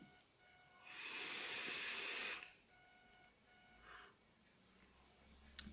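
A vaping exhale through a handmade Clapton coil: one steady, airy hiss that swells and holds for about a second and a half, then fades. It is fairly close and there is no voice over it.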